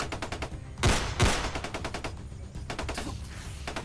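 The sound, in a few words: distant gunshots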